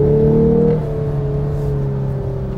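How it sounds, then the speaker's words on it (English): A 2021 Lexus IS 350 F Sport engine pulls hard from inside the cabin, a loud steady droning growl that shifts down in pitch as the gear changes, then keeps climbing smoothly. "acceleration is decent on it. I do like the sound."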